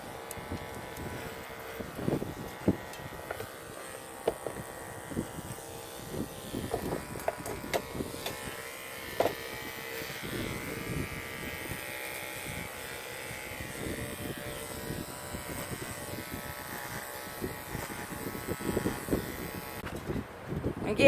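Electric clippers shaving a dairy goat buck, a low steady motor hum with soft irregular bursts as the blades move through the coat, continuing for a long stretch.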